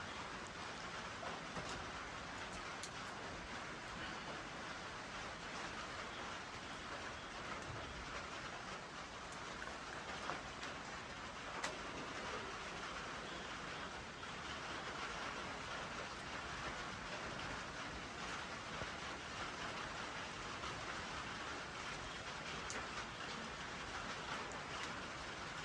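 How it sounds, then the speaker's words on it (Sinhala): Steady rain pours over a foggy Sri Lankan village, a dense, even hiss of drops that holds unbroken throughout with no voices. "මේ වහිනවා මේ පැත්තට"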